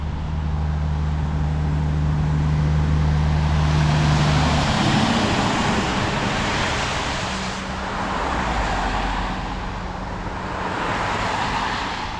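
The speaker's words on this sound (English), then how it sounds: "Look at all them cars on 279." Steady roar of many cars in morning commuter traffic on Highway 279, a continuous broad rush with a low engine drone early on and waves of passing vehicles swelling and fading.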